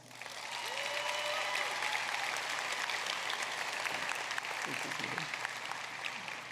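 Audience applause at a Lamar University College of Engineering commencement in May 2016, a steady, full round of clapping from a large crowd sustained throughout after a brief rise at the start.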